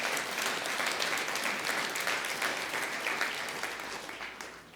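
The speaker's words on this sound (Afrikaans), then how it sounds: "Julle kan wragtige ordentlike hande klap gee vir dit." A church congregation applauds for several seconds at a Sunday service, a dense, steady clapping that tapers off slightly toward the end.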